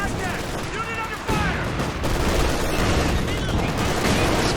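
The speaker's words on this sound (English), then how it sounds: "Scott with a bit of barrage going" Artillery barrage from an M8 Scott in a Company of Heroes 2 match, loud overlapping booms and gunfire rumbling continuously over a dense battlefield din, with commentary talk running underneath.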